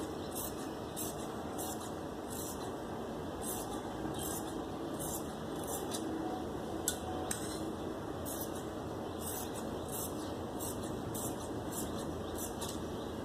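Fabric strip cut with scissors for piping cord, a steady run of crisp, regularly spaced snips over a faint room hiss, close by, with no talking.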